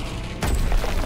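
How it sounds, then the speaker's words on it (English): Grenade explosion in the Call of Duty: WWII campaign: a short lull, then a sudden loud, deep blast that rumbles on with heavy low-end boom. "Grenade out."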